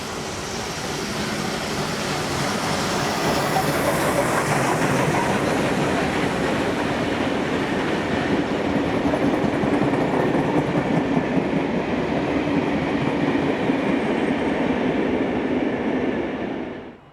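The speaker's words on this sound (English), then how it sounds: "The loco and its train are seen at Beverly Hills" A locomotive-hauled train rolls past at Beverly Hills, New South Wales, a loud, steady rumble with rail clatter that holds for about sixteen seconds before cutting off.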